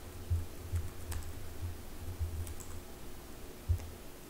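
Keystrokes on a computer keyboard come in short bursts with pauses between them. The clicks sound close and soft, with no voices.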